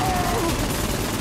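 A gun firing in the open-world action game Saints Row 4, a loud, dense burst of rapid shots filling the whole brief moment without pause.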